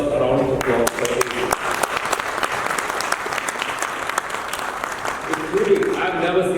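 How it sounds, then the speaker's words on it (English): An audience at an ASUS ZenBook Pro Duo laptop launch event breaks into applause, dense clapping swelling for several seconds with sharper individual claps, and a voice speaking at the start and again as it fades. "This itself deserves a round of applause for it."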